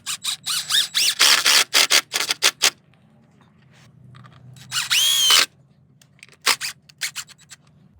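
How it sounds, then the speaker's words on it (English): A power drill drives a screw into wood for a firewood rack, in repeated short whirring bursts with a longer high whine near the middle, close and loud. "I'm going to see if I can just drill it in without cracking it"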